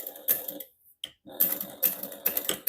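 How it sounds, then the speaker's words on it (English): Sewing machine stitching a seam with a 1/8 inch allowance on a fabric notepad holder, running in short close bursts of quick rattling with a brief pause midway. "now I'm just going to sew"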